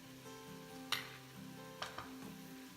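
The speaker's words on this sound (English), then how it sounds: "Again, I'm going to just give it a stir" Vegetable oats khichdi stirred in a pan, a quiet background of faint cooking with a few sharp spoon-on-metal clinks and scrapes spaced across the clip.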